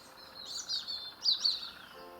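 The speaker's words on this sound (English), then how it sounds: "I hope you can hear these birds like I can." Wild birds sing outdoors in short bright phrases, a few separate calls close together, fairly faint and heard alone with no talking.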